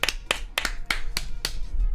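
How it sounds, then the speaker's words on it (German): A small audience gives sharp, separate claps, about six distinct hits in an uneven rhythm rather than full applause, close and fairly loud, with no voices. "Einmal einen würdigen Applaus für die Teilnehmer, die uns verlassen."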